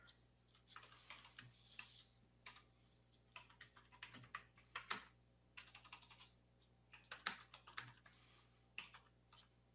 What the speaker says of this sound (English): I was typing there for a second